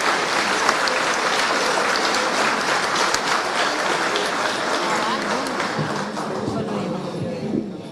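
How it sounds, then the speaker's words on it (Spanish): An audience at a formal event breaks into loud, sustained applause, dense clapping that fills the room and fades slightly toward the end, with some voices faintly under it. "Un aplauso para él, por favor."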